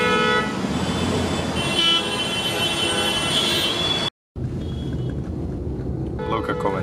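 Busy Indian street traffic with car horns tooting repeatedly over a constant engine rumble. A brief cut of silence falls partway through, and voices are heard in the mix.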